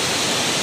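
A spring-fed mountain stream on Panay Island rushes steadily, a loud, dense broadband flow close by with no voices.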